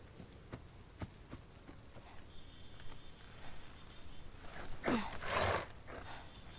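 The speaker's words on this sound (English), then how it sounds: "You put the horse in the garage." Horse hooves clip-clop steadily in The Last of Us video game, a run of regular hoof strikes over an ambient bed before a louder burst of noise near the end.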